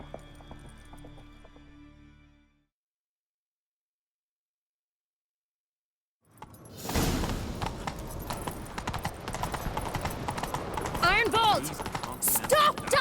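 Rapid hoofbeats of galloping horses in The Witcher 3, close and loud, after a stretch of near silence, with clattering and rumbling mixed in.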